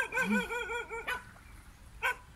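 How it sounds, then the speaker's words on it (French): Dogs bark and yip in a few short bursts on a beach at Bangpor, Koh Samui, Thailand, fairly faint and at a moderate distance, with a quiet lull between the barks. "Et on est directement sur la plage avec les toutous."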